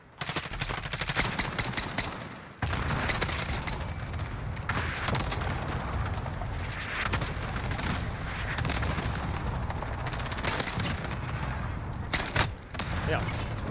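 DMR rifle fire in Modern Warfare on a new map, rapid repeated sharp shots sustained throughout amid other battlefield gunfire and mechanical clatter, with a voice talking over it.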